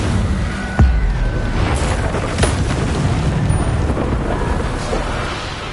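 An Incendio fire spell is cast in Hogwarts Legacy on PS5, with a sharp booming burst followed by a steady roaring, whooshing rumble, and a couple of smaller thumps later on.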